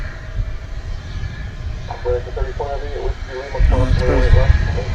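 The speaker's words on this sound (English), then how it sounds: "We're going to swing right around here to catch a FedEx Airbus A380 coming in on the east side." A FedEx Airbus A380 coming in to land at DFW Airport gives a broad, loud jet rumble that swells toward the end, while a voice talks over it.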